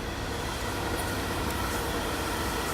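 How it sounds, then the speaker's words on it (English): A train rumbles steadily past, a dense continuous roar of wheels and carriages close by, loud and unbroken throughout. "I'm gonna let the train pass"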